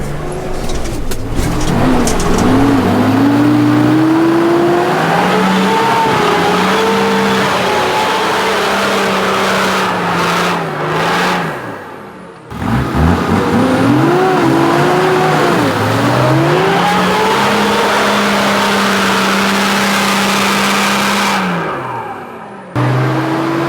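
A car's engine revs hard and strains up a rough off-road track in two long, loud climbing bursts with a brief cut between them, the pitch rising and falling as the tyres fight for grip.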